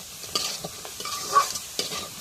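Boiled leafy greens stirred in hot oil in a pan, with soft sizzling and a few sharp scraping strokes of a spatula at irregular intervals, close and fairly quiet, no talking.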